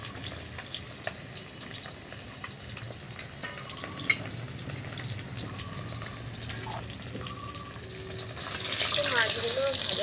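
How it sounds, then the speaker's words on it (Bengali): Fish frying in oil gives a steady low sizzle and crackle throughout, with a sharp clatter partway through and a louder, brighter hiss swelling near the end. "মাছগুলো ভাজা হয়ে গেছে।"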